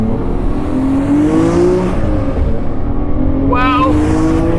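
A Mine's Nissan Skyline R34 GT-R V-Spec II Nür race car accelerates with a loud, steady engine note that climbs in pitch, close and continuous, with a brief rising whine near the end.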